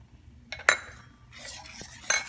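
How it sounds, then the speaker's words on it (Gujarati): A spoon stirs khatta dhokla batter mixed with oil in a bowl, making a few soft scrapes and bright clinks against the side at a quiet, close distance. "અને ખીરાને આમ હલાવી નાખવાનું।"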